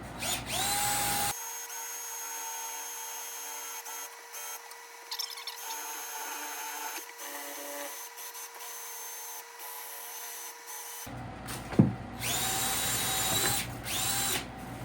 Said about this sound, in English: I'm just going to drill a hole here enough for the power cord to go through.